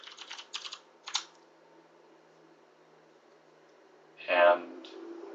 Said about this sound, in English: to go to YouTube, you just type YouTube in the search bar